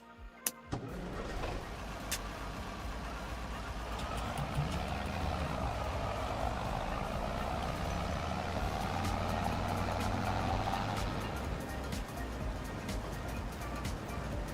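A tractor engine idles and then rumbles steadily in Farming Simulator 25 during a soybean harvest. A couple of sharp clicks sound at the start before a constant, moderately loud drone settles in.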